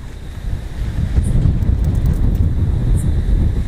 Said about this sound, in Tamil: காற்று தாங்க இது ஓவராக அடிக்குது